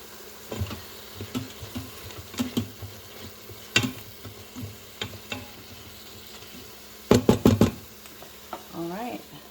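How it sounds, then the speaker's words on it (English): Ham sautéing in an Instant Pot on saute mode, a soft steady sizzle broken by scattered scrapes and knocks of a utensil, with a quick cluster of sharper clatters near the end and faint talk at the close. "now we're just going to let that continue to saute"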